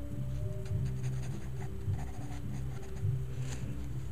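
Pencil sketching on paper while drawing a fantasy warrior's face, steady close scratchy strokes continuing throughout with soft rhythmic patter and no talk.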